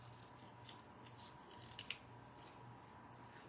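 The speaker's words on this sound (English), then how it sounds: "These are my little bitty travel scissors, but I kind of love them for fussy cutting." Small travel scissors fussy cutting paper, quiet soft snipping and rubbing close by over a low steady hiss, with a couple of sharper snips near the end.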